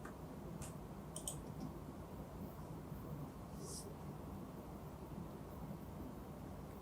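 A few crisp computer mouse clicks while working in the K-Edufine administration system: a quick pair, a short cluster and a later single click, faint and close over a quiet background hum.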